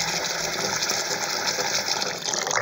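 Water gushing steadily from a tap into a pot of sausages to cover them, a loud, even, continuous pour lasting the whole moment.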